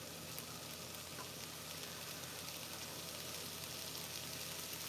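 Ground meat sizzles and crackles steadily in a frying pan, a constant fairly quiet frying hiss with no talking.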